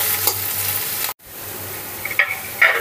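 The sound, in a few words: onions frying in oil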